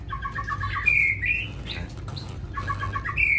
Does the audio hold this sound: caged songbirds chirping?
yes